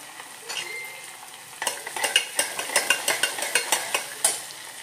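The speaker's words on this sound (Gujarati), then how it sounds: "અને મરચાંની કટકી કરી હતી ને એ હલાવી દઈએ, મિક્સ કરી દઈએ." Chopped green chillies and peanuts are stirred in a hot frying pan, with a soft sizzle under a quick run of rhythmic spatula scrapes and taps close by. No voices are heard.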